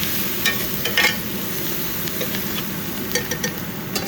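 Ginger garlic paste and turmeric being stirred in a frying pan for raw banana curry: steady close sizzle with scattered scraping stirs of a utensil against the pan, no talking.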